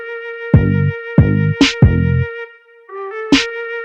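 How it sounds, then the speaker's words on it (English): Two crisp snare hits from a trap beat land over a sustained synth melody and deep booming bass notes, loud and up close. "that is the exact snare that was used in the original song"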